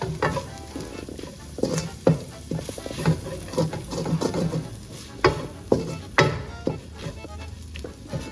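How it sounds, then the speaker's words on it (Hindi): A resha kabab mixture is roasted in a pan, sizzling steadily up close while a utensil repeatedly stirs and scrapes it in irregular bursts. "तो अब इसकी हम थोड़ी सी भुनाई करेंगे।"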